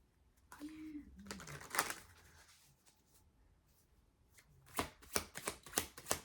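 Tarot cards being shuffled, a brief riffle early on, then a quiet pause followed by a quick run of crisp card slaps and flicks near the end, close and fairly faint.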